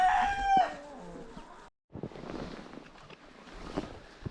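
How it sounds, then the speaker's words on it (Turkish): A rooster crows at the start, followed after a brief gap by clucking and rustling from other fowl, fairly close. "Diğer tavuklar horoz çağırıyor"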